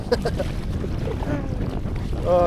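A kayak heads straight into a headwind off Holy Island, with gusty wind rushing across the microphone and faint water splashing around the boat, steady throughout and swelling slightly at the end.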